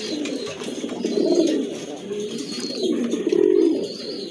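Pigeons in a seller's loft coo continuously in low, rolling, throaty phrases, several birds overlapping and close by, with faint chirps and background noise but no clear talk.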